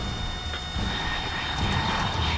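A steady, loud jet roar with a high whine on top from MiG jets in the video game Metal Gear Solid 3: Snake Eater, holding constant throughout like an aircraft engine passing close overhead.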